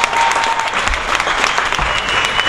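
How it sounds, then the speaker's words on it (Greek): An audience at a stand-up comedy show claps for four performers: dense, loud, continuous applause from a crowd, steady throughout with no voices on top. "Ένα χρόνο χειροκρότημα για 4 παιδιά."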